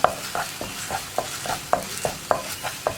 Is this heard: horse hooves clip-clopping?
no